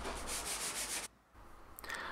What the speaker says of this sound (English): then I moved to hand sanding with some finer grits